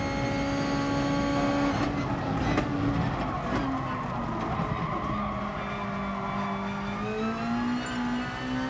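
Racing engine of a car on its second lap in GT Sport, a steady loud drone with shifting pitch as it accelerates and lifts, alone with no talk.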